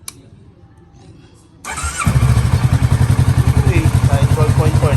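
A Kawasaki Ninja 650 motorcycle engine fired up after a battery replacement: a quiet stretch, a brief starter whir, then the engine catches and settles into a loud, steady, throbbing idle close by.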